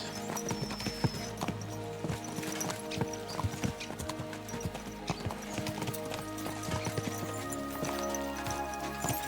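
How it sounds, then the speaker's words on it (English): Horse hooves clatter in a fast, continuous galloping rhythm over a steady background tone, with an occasional whinny, loud and close, in the video game Kingdom Come: Deliverance II. "Let's really spur these horses on, eh?"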